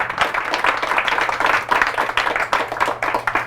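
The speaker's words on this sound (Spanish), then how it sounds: "Fuerte ese aplauso" A church congregation breaks into applause, dense overlapping claps at steady strength filling the room throughout, close and continuous with a faint low hum underneath.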